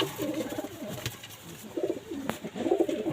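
Soft, low pigeon coos come in short rounded bursts, repeating several times close by with a brief gap between calls.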